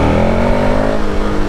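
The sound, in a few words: KTM Super Adventure S motorcycle engine revving during a wheelie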